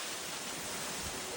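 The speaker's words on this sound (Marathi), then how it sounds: "हा धबधबा हा वादी" A waterfall at Lonavala roaring as a dense, steady wash of rushing water with no pauses, with no other sounds standing out over it.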